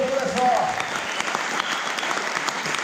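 Audience applause at a Slovenian kayaker-of-the-year awards evening for the 2019 season, a steady wash of many hands clapping, fairly loud and continuous, with a brief voice at the start.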